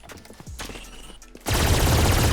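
A turret firing in the video game Valorant, a loud sustained burst of rapid automatic fire that starts abruptly after quieter clicks and footsteps, continuing to the end.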